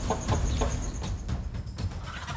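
A mother hen confronting a cobra in front of her chicks gives repeated, agitated clucks, close and fairly loud over a rough outdoor background.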